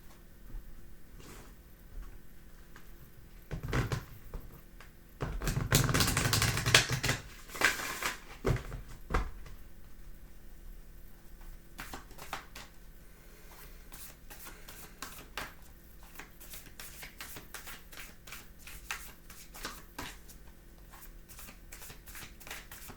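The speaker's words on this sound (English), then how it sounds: "I'll give this a fine shuffle." A deck of oracle cards is shuffled by hand, with a loud riffling burst early on, then a run of sparse, crisp taps and flicks as the cards are squared and cut, close and quiet otherwise.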